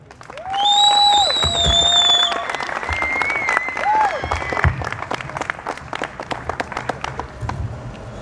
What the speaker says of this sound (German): einen tollen Applaus für meinen nächsten Sprecher, an Klausi